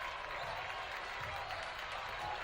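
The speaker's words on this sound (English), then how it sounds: "A lot of energy from this Warriors crowd" A home crowd at a high school basketball game between the Norwalk Warriors and Pella claps and cheers, a steady mid-distance roar with faint voices mixed in.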